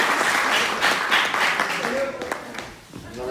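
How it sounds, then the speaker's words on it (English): Audience applause at a university hypnotist show, a loud crowd clapping that thins out toward the end while a voice comes in over it. "Give them a big round of applause, please."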